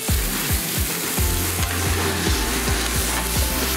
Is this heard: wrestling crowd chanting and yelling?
no